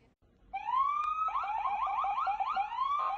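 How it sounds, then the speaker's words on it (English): A loud police siren rises in a long wail, then switches to rapid yelping cycles, close and clear. "The sound of police siren,"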